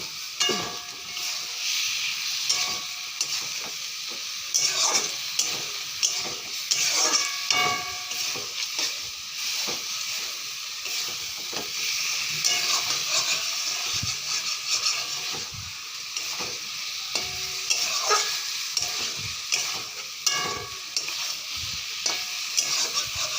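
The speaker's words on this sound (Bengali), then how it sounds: "এবার ডিমগুলো, আলুগুলো দিয়ে ভালো করে কষাই দেবো।" Eggs and potatoes being stir-fried with spices in a pan, a steady sizzle and hiss broken by frequent scraping and clattering of the spatula, close and continuous without talk.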